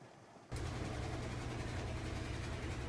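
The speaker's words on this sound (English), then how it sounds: "Sorry about the noise. There's a washing machine behind me." A washing machine runs close by, its steady, loud mechanical hum and churning rush kicking in abruptly after a brief quiet moment and holding constant throughout.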